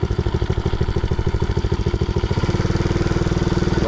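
A 110cc ATV engine fitted in a vintage mini-bike runs steadily on a cold day, its close, loud, rapid chugging pulse holding throughout and settling into a slightly quicker, smoother rhythm near the end.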